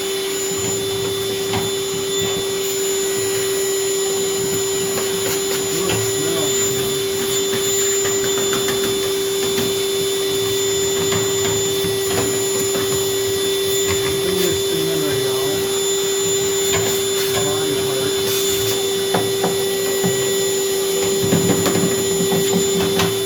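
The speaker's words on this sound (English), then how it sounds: "I'll start vacuuming with this little bag and see how much junk we can get" A vacuum cleaner fitted with a small attachment sucks debris out of a clothes dryer, a loud continuous drone with a steady whine, scraping nozzle knocks and shifting pitch as it works inside, faint talk under it.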